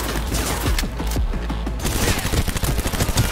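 Rapid bursts of automatic gunfire from a firearm in the video game Cyberpunk, loud and close, with dense overlapping shots and a brief lull before heavier firing resumes.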